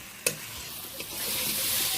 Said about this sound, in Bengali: মশলার সাথে আলুটা আরও 2-3 বার ভালো করে নেড়ে চেড়ে নিলাম